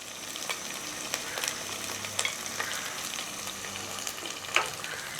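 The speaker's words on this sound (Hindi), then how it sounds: "और इसको थोड़ा सा भूनेंगे प्याज को" Chopped onions frying in hot oil with turmeric and chilli powder, a steady crackling sizzle with occasional brief spatters and light stirring, fairly quiet and close.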